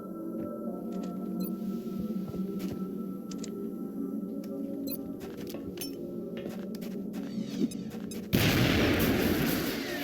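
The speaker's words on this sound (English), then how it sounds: "If there's ever a good time for a shredder grenade, this is it." A shredder grenade goes off in the video game XCOM Long War: quiet ambient game tones with faint clicks run for several seconds before a sudden loud blast that stays harsh and noisy to the end.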